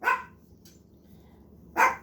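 A dog barking nearby, two sharp single barks about a second and a half apart with a faint yip between them against a quiet indoor background.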